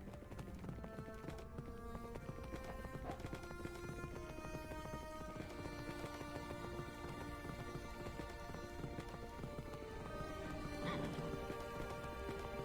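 Video game horse sounds play in a Minecraft Bedrock map, quick clip-clop hoof steps and a whinnying neigh rising near the end, all set within a dense layered bed of game music and ambience at low volume.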